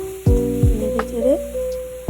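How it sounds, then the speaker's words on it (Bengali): Mixed vegetables with turmeric sizzling in a frying pan as they are stirred, with a few sharp clatters of a spoon against the pan over a steady fry. "নেড়ে চেড়ে"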